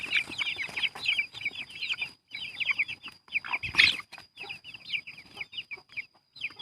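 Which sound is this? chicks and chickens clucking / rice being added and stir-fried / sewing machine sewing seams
chicks and chickens clucking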